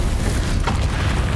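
The Confringo blasting spell bursts in the Hogwarts Legacy video game as a dense, booming roar of explosive noise with a brief crackling flare partway through, loud and continuous with no speech over it.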